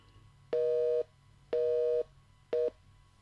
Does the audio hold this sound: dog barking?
no